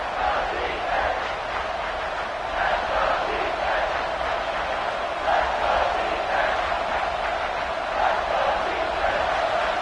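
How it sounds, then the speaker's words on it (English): A football stadium crowd roars steadily as the defense holds in the red zone, a dense, sustained wall of cheering with a commentator's voice running over it. "the crowd coming to life here, trying to help this defense down in the red zone"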